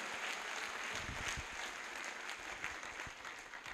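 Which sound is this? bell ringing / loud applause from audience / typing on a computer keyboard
loud applause from audience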